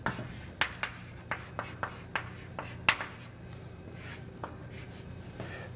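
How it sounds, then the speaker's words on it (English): Square brackets being handwritten for crystallographic direction notation, heard as a quiet series of crisp taps and short strokes, spaced irregularly and close by. "I'm going to write that over here where I have some more space."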